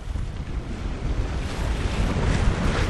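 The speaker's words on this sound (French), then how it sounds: "La mer est forte, ça promet" Rough sea and strong wind off Tobago heard from a Lagoon 380 catamaran under sail, a loud continuous rush of waves and buffeting wind noise building toward the end.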